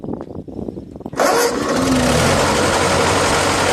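A Ford 9N tractor starts on the key: a few quiet clicks, then the engine catches abruptly and settles into a loud, steady, close-up running roar.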